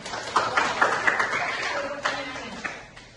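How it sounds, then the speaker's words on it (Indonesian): An audience at a talk on menstrual disorders gives a short round of scattered claps, a few distinct sharp hits near the listener while voices speak over them and the clapping fades out. "kasih tepuk tangan juga nih"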